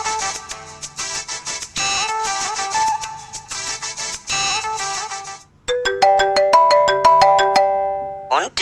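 A phone ringtone for an incoming call plays loudly as a repeating melodic tune, then switches to a brighter chiming pattern of rapid tones, with voices briefly heard around it.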